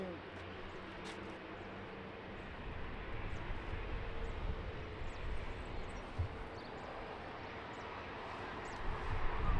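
An airplane takes off from runway 20 at Lisbon Airport in the rain, a distant broadband engine rumble that slowly swells in loudness, with radio voices talking over it.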